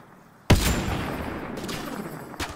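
A gun fires in Mass Effect Andromeda: one loud, close shot booms and leaves a long, noisy decay, followed by two fainter follow-up cracks about a second apart.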